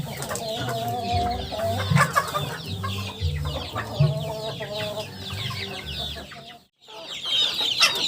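A free-range village hen with her ten newly hatched chicks clucks repeatedly in low, rhythmic bursts while the chicks peep in high, rapid chirps, close by and lively, with a brief silent gap near the end.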